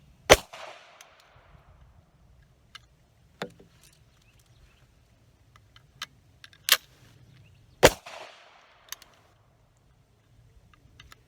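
A Silver Eagle folding .410 shotgun fires several sharp, loud shots spaced seconds apart outdoors, each a sudden crack with a brief decay, with faint handling clicks and quieter pops between them.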